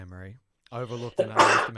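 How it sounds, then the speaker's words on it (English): A single sudden sneeze from a woman during a songwriting session, coming right after a short stretch of her speech and loud against the quiet room. "You've never sneezed when we've spoken before."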